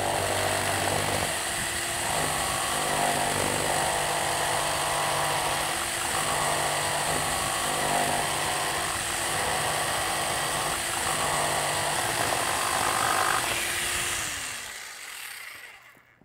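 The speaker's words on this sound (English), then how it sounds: "We're going to run our saw just right around that ridge." A power saw cuts around the top ridge of a plastic rain barrel, running steadily with a high buzzing whine for about fourteen seconds before winding down and stopping.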